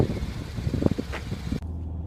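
A 2014 Porsche Boxster S on the road, engine and tyre roar steady and close with wind buffeting, the sound dropping sharply near the end; no talking.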